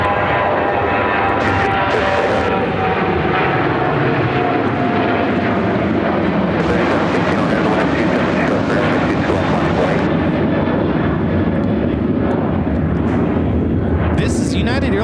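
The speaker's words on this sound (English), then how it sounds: "This is United Airlines 1888 taking off to San Diego, California on the 737-800" A United Airlines Boeing 737-800 takes off at Chicago O'Hare, its jet engines roaring loud and steady as it passes, while someone talks over the noise.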